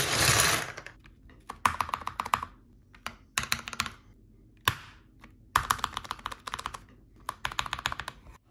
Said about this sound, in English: I finally finished lubing this keyboard.